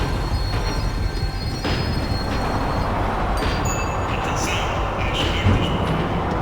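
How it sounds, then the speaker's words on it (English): An in-game tram in Max Payne 3 slows down, giving a steady, loud low rumble of rail wheels with faint high squeals and metallic clanks rising in the second half. "The tram was slowing down, and I'd only just gotten on board."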